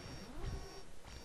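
An alarm sounds in the video game Mega Man X8, a steady high tone repeating in short pulses over dense game noise.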